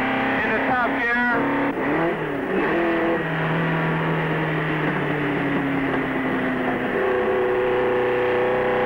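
Onboard a 1961 race car at the Nürburgring circuit, the engine roars loud and steady, revs climbing through gear changes and rising pitch as it accelerates hard, with faint talk underneath.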